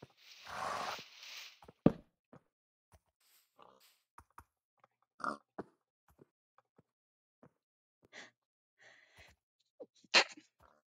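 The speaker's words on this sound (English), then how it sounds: "Sorry, I sneezed." A single close sneeze bursts out near the start, followed by scattered soft clicks and taps from a computer keyboard and mouse in a quiet room.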